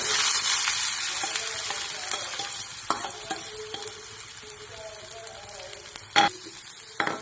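Garlic, onion and ginger fry with cumin in a hot pan for paneer bhurji, a steady loud sizzling hiss that slowly eases, broken by occasional stirring scrapes and a sharper clatter near the end.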